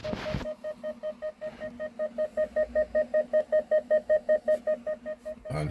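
A 2013 Jaguar XF's warning chime, sounding with a park brake fault, repeats short electronic beeps at a quick, even rhythm, clear and fairly close, with little else around it.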